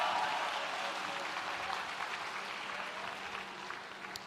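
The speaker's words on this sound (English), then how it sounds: "I think all our graduates deserve a final round of applause" Graduates at a college spring graduation ceremony receive a final round of applause, a soft, steady patter of many hands in a large hall that slowly fades.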